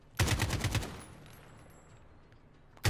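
Rapid burst of automatic rifle fire in the first-person shooter Modern Warfare, a loud volley of several quick shots up front that then fades into a quieter game backdrop with another sharp shot at the end.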